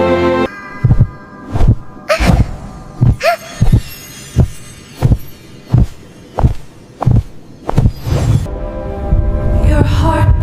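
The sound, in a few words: heartbeat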